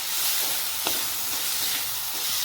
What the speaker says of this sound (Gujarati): બધું નાખી મિક્સ કરી લેશું પહેલાં